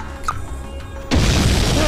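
A bomb goes off in an Indian action film, a sudden heavy boom that cuts in partway through after quieter ambience and rumbles on with a crashing, sustained roar.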